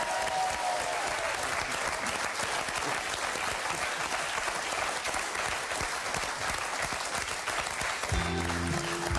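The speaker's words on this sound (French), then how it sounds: "Je vous propose d'applaudir très fort Jean-Michel à moitié." Sustained studio audience applause on a French TV game show, loud and steady for the whole stretch, with a brief tonal musical sting near the end.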